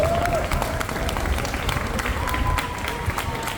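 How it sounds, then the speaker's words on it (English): A crowd of camp kids and families at a Cincinnati Reds ballpark applauds baseball player Spencer Steer, a dense continuous clatter of clapping with voices and a cheer mixed in throughout. "let's give Spencer a big round of applause"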